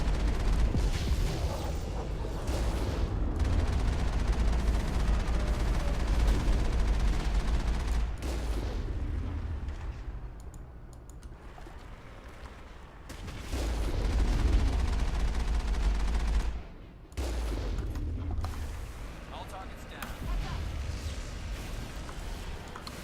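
Gunfire against Geth enemies in the video game Mass Effect, with heavy cannon and weapon fire crackling in sustained, dense volleys. It swells and dips over the stretch without clear pauses.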